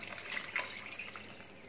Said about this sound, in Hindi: ये हम 3 कप पानी डाल रहे हैं